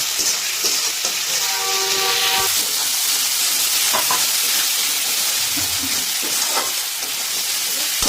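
Chicken sautés over a high gas flame with onion and spice paste, a steady loud sizzle and hiss throughout, with a few clinks of a spoon stirring against the pan and a faint beeping tone early on.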